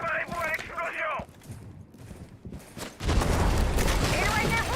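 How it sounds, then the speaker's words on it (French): In a Rainbow Six match, a breaching blast goes off: a deep heavy boom rolls out after a short quieter gap, with a game voice announcing over it just before. "Préparez-vous à l'explosion."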